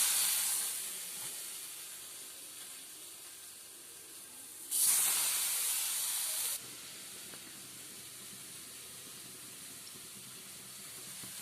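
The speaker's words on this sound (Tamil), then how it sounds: "இந்த ஒரு முட்டையை எடுத்து இதில் டிப் பண்ணி தோசைக்கல்லில் போட போகிறேன்" An egg dipped in batter hitting a hot dosa griddle: a steady background hiss swells into a louder, bright sizzle for a couple of seconds, then settles back to a softer continuous frying hiss.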